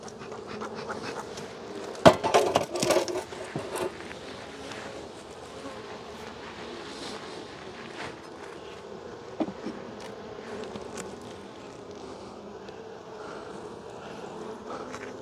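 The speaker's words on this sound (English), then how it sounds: "we got about eight frames of bees in here" Honeybees hum steadily inside an opened beehive during a spring hive inspection, a continuous close buzzing with a few brief knocks and clatters of frames being handled near the start.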